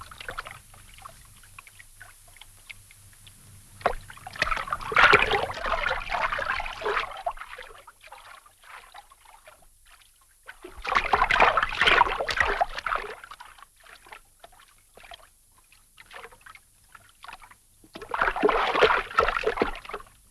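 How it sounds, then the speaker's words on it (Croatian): Boats and rafts move through floodwater, with paddle splashes and sloshing water arriving in three louder bursts between quieter trickling stretches. "S plavima, biciklima, čamcima, a i pješice, ljudi su krenuli kroz vodu po kruh, po mlijeko i drugu hranu."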